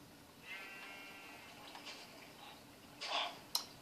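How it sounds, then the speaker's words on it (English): A sheep bleats once in a video game, a faint, wavering call, followed by a few soft ticks and clicks. "That's a sheep."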